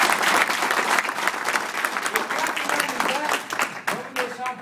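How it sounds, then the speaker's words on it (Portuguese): A crowd at an in-person meeting in Guarulhos breaks into applause, dense close clapping that stays loud and steady throughout, with a few voices rising over it toward the end. "Uma salva de palmas aqui então para todo mundo."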